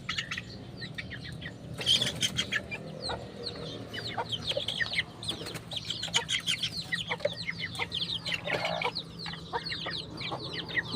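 Chickens cluck and chirp in quick, repeated bursts at close range, with a low steady hum underneath.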